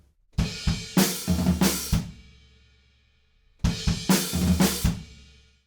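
A drum pattern played by hand on floor tom, snare and hi-hats, two short bursts of several quick, close hits separated by a pause; no voices.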